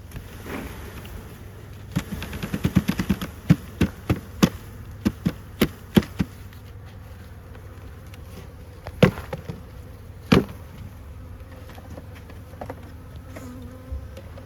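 New Zealand honeybees buzz at a hive as new bees are installed, a low steady hum broken by sharp knocks and clicks of frames being handled, with bursts of closer taps early on.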